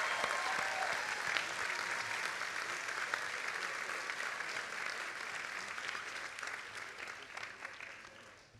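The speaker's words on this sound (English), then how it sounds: "give them a round of applause for the help that they have had" Steady, dense applause from medical school graduates at a commencement ceremony, a continuous crowd clapping that holds level and tapers slightly toward the end.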